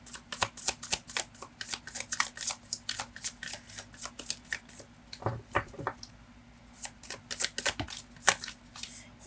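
Tarot cards being shuffled by hand in a series of crisp, rapid riffle and flick bursts, close and fairly quiet, with a short pause midway before the shuffling resumes.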